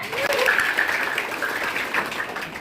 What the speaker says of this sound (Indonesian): Bang Intan aplaus dulu semuanya